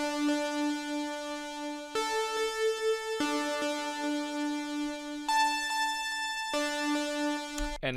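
A buzzy, harmonically dense saw-wave synth preset plays sustained notes that change pitch every couple of seconds in a slow repeating pattern, loud and alone with no voices.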